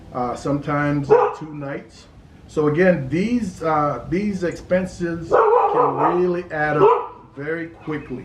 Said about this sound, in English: That is my dog trying to chase the cat along the fence